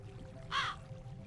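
A single crow caw rings out clearly in a Minecraft game world, one short, fairly close call standing alone against a quiet ambient hum.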